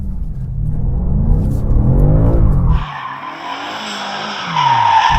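A four-wheel-drive car switched to two-wheel-drive mode slides around, tires skidding loudly against a deep rumbling engine, then a sustained high squeal as it holds the drift. No one speaks.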